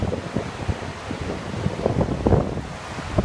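A class 3 rapid on the New River at high water, turbulent whitewater churning and splashing nearby in irregular bursts, mixed with wind buffeting the microphone.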